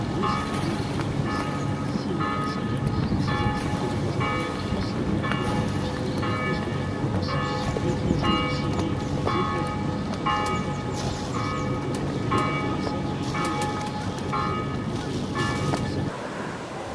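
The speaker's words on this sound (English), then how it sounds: "Almost every port has a church that rings its bells." Church bells in Saint-Pierre, Martinique peal repeatedly in a steady, rhythmic pattern over a dense outdoor rumble of street noise, loud and continuous throughout.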